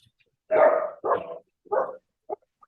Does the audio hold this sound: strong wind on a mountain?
no